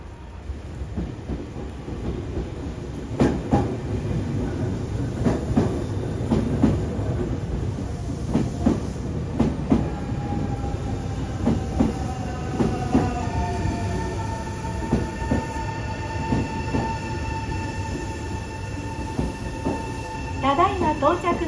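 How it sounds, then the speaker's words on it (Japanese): A Nankai 9300 series train pulls into a station platform with rumbling wheels and rhythmic clacks over rail joints, then rising brake squeals as it slows, while platform announcements play over the scene. "3番乗り場に電車が到着します。"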